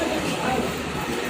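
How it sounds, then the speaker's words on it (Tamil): A passing train gives a steady, dense rumbling roar with a faint hiss and rattle, loud and unbroken throughout with no voices on top. "ட்ரெயின் வரும், கொஞ்சம் வெயிட் பண்ணுங்க."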